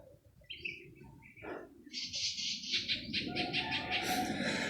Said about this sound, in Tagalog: Maraming uwak.